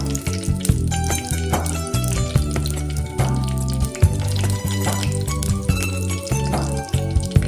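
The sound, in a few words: mustard seeds spluttering in hot oil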